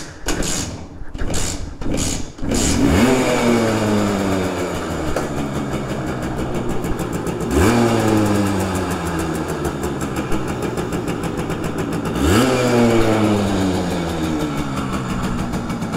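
A Simson moped's two-stroke engine revs hard three times, each rising sweep climbing sharply before falling back, loud and close with a steady engine drone between the bursts.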